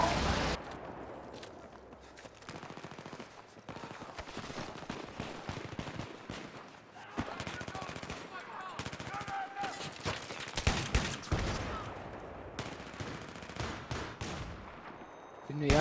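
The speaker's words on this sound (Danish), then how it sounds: "Jeg bliver så pludselig skudt på." Gunfire rings out in the video game Battlefield 3, irregular bursts of automatic shots and single cracks scattered across the clip, with a player's voice talking over the action in between.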